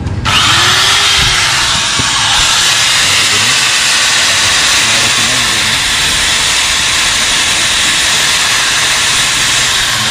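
A rotary tool with a grinding burr smooths metal during a king pin repair on a Mitsubishi Canter truck, a loud, close, high-pitched whine that runs on continuously with slight shifts in pitch and a rough hissing edge.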